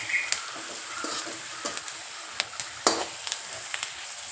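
Chopped onion frying in a pan with a pinch of soda added, foaming, for a dhaba-style masoor dish; a soft steady sizzle with scattered clicks and scrapes of stirring, no talk.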